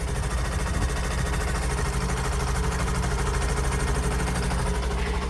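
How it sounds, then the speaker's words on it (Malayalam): A vehicle engine idles with a steady, even mechanical hum and light vibration, running continuously at close range. "ഇനി ഇവനൊന്ന് നമുക്കൊന്ന് സ്റ്റാർട്ട് ചെയ്ത് നോക്കാം"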